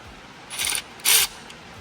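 A ratchet loosens a bolt on a Duramax diesel Y-bridge kit in two short, close bursts of rapid clicking separated by a brief pause.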